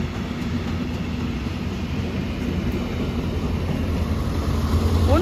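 A Lint diesel multiple unit pulls out of Gießen station toward the sidings, a steady low engine rumble and rolling noise building slightly louder over several seconds, with a faint squeal near the end.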